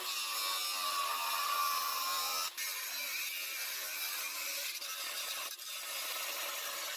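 Mongo cuts off rivet bolts in a metal tray from an oil heater base with a steady, continuous, close-up grinding rasp that holds unbroken for several seconds, with brief dips in between.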